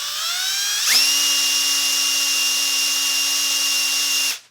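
Power drill whining at a steady high pitch with a wobbly drill bit chucked in, spinning up sharply near the one-second mark and running continuously before cutting off abruptly at the end, loud and close with no voices.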